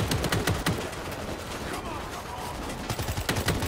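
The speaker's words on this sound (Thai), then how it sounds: "ไอ้บิ๊กมอสยิงฝั่งกูส่วนกูยิงฝั่งมึง" Rapid gunfire in a shooter video game, a fast string of sharp close shots with brief lulls, loud and continuous, with players talking over it.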